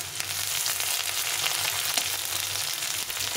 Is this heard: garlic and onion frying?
yes